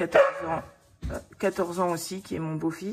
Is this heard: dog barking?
yes